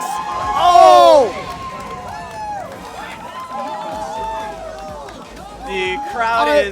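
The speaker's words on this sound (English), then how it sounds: "The crowd is going. Everyone is very hyped for this." A crowd cheers and shouts loudly at a DDR dance game tournament, with voices of excited people rising over a steady babble of chatter and commentary.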